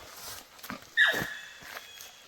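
A pet dog on an overland rally trip near Montpellier gives a single short, high yelp or whine, with soft footsteps and shuffling around it at moderate distance.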